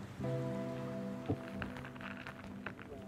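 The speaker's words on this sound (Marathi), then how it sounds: "पाऊस आहे का काय?" Steady rain falls at night outside during a crab-catching outing, a continuous close hiss of drops on surfaces with a few sharper knocks and a faint steady hum underneath.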